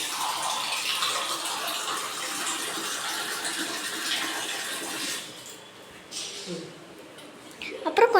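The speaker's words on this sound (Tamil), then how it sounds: "அப்புறம் கொஞ்சம் ஒரு கப்பு தண்ணி ஊற்றிக்கலாம்." A cup of water poured into a pan while making a sweet for kids, a soft steady stream of pouring water under a voice, briefly quieter before a final splash.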